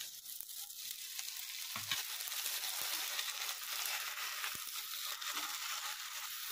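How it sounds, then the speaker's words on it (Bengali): Ginger garlic paste sizzles and crackles in a pan of fried onions, a steady close frying hiss with light stirring scrapes throughout. "পেঁয়াজগুলো ভাজা হয়ে গেছে, এবারে দিয়ে দেবো আদা রসুনের পেস্টটা"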